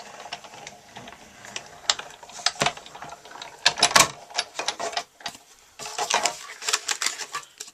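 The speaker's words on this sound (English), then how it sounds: "So we'll go ahead and cut our scalloped circle out." Scalloped circle being cut from pink cardstock with a die-cutting machine, a close run of irregular ratcheting, clicking mechanical cranks in bursts with brief pauses, no talking.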